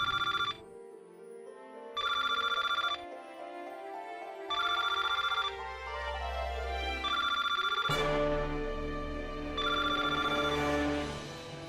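A cellphone rings in repeated loud, bright bursts with short pauses between them, over background music and with no voices.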